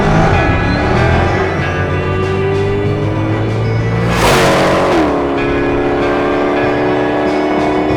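A Hennessey H700 supercharged C8 Corvette Stingray roars loudly and steadily, its engine note climbing with supercharger whine, then a sharp burst of revs and a shift to a new pitch before it drones on.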